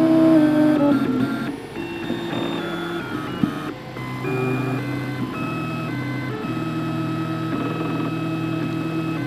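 A 3D printer's stepper motors play a melody as steady, buzzy electronic tones, stepping through the melody's pitches alone and fairly loud, with a low hum beneath.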